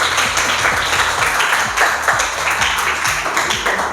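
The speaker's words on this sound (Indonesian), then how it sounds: "Kasih tepuk tangan buat teman." Classroom applause for classmates after a group presentation, a dense burst of many hands clapping close by, steady for several seconds.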